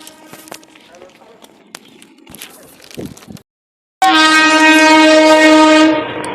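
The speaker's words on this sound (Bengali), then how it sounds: "আর তোমাদেরকে ট্রেনটা দেখাই।" A long passing train seen from trackside, with a loud, sustained horn blast near the end after a brief silence. Earlier, scattered voices and clicks are heard and people talk over the scene.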